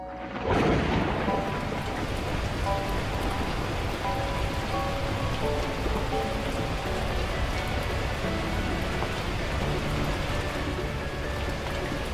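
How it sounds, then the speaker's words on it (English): Torrential rain pours down in the video game Beacon Pines, a sudden heavy onset settling into a dense, steady downpour with a low rumble underneath, continuous and loud without voices. "At that moment, the heavens opened up, unleashing torrential rain."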